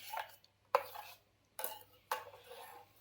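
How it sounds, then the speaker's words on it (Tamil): A spoon scrapes and clinks against a pot in four short separate bursts, stirring rusk pudding mixture with ghee, close and fairly quiet with near silence between strokes. "கலக்கிக்கணும் நல்லா நெய் போட்டு."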